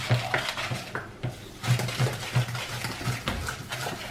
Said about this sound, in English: mix it up a bit. Stir it well.